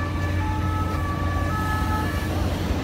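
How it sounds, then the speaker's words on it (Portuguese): Wailing emergency sirens at Place de la Concorde in Paris, steady and moderately distant over a constant rumble of city traffic. "tá tendo sirene direto"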